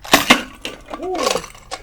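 A block of ice in a bucket cracks and breaks after warm water is poured over it: two sharp loud cracks near the start, then smaller clinks and a brief vocal exclamation, heard close up.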